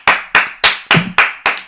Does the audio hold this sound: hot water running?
no